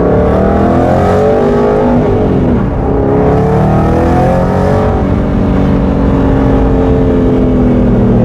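An Aston Martin Vantage GT8 engine drones loud and close while driving, its pitch climbing, dipping briefly mid-way, then rising again in a sustained, throaty run with no talk.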